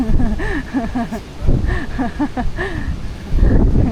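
Gusty wind buffets the microphone at an outdoor camp cooking site where charcoal is being used for grilling, rising in loud bursts while people talk throughout.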